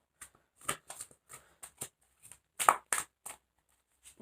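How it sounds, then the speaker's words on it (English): Game of Thrones tarot card deck being shuffled by hand, quiet close crisp riffling bursts in quick irregular clusters with brief pauses between. "They shuffle really nicely."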